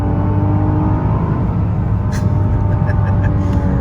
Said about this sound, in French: les turbos soufflent plus fort